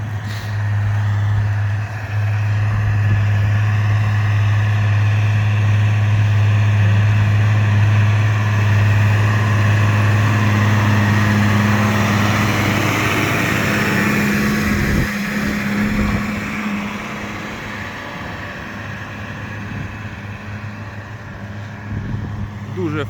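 A heavy tractor engine ploughing a field after rain drones steadily at low pitch, straining then revving up, loud and continuous with faint voices underneath.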